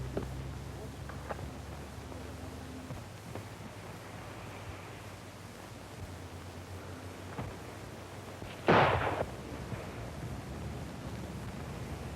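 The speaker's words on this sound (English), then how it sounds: "Where'd that gun come from?" A single sharp gunshot cracks out late in a scene from the 1934 film serial Burn 'Em Up Barnes, loud and abrupt over a steady hissing, noisy old soundtrack.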